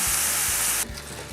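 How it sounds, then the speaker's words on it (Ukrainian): Onions sizzle in hot butter in a pan, a steady crackling hiss that quiets slightly partway through, with faint low thumps beneath. "Смажимо цибульку до рум'яності."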